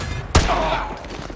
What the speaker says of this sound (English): Roach, take the shot.